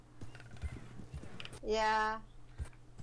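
A horse in the Red Dead Redemption 2 video game, its hooves clopping irregularly, then a loud, drawn-out neigh midway through, with a low steady hum underneath.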